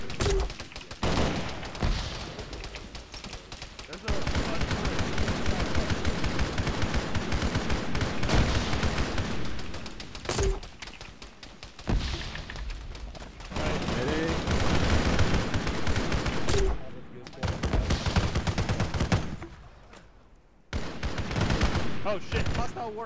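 Sustained gunfire at enemies in Halo, long loud bursts of rapid automatic shooting broken by brief pauses, with a player's voice talking now and then between volleys.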